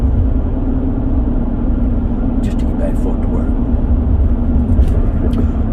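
Steady low engine rumble from a pickup truck driving on the road, continuous throughout, with someone talking over it.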